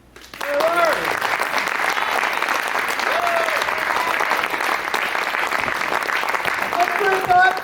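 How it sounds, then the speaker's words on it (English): An audience at a poetry slam in a theater applauds a judge being welcomed to the stage, a loud sustained burst of clapping with scattered cheers and voices mixed in. "Please welcome to the stage, with a round of applause, our first judge, Larry."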